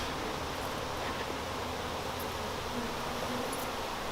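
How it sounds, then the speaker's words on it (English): A big mass of honey bees packed in the bottom of a container, being scooped to fill mini nucs, gives off a steady, dense, close buzzing drone that holds unbroken throughout. "Just a big mass of bees in the bottom."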